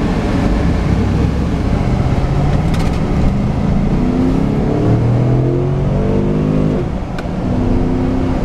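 A car with airbag suspension accelerates on a drive, its engine climbing in pitch through repeated revs and gear changes, loud and steady from close by inside the vehicle.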